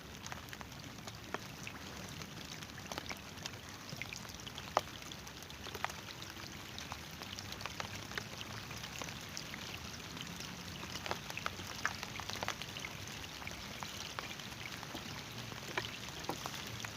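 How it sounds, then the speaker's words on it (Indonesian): Rain falls on Lake Limboto during a tilapia fishing trip, a soft, steady hiss of drops pattering on water and surfaces, faint and continuous with scattered sharper taps and no talking. "Jadi sekarang ini sudah hujan, ya begitulah yang namanya hujan"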